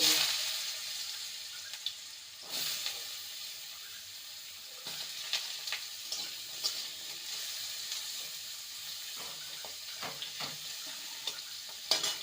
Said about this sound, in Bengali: তেলটা গরম হয়ে গেছে এবার আলুগুলোকে